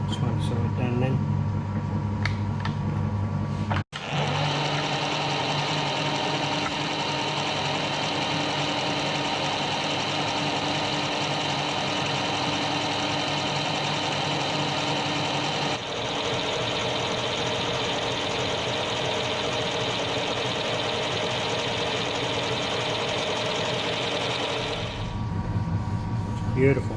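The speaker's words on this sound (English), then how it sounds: "I'll dust it off with a fly cutter while I'm going." A fly cutter skims a metal part for a Webster engine on a milling machine, a steady close whirring hum with a machining whine that runs unbroken for about twenty seconds.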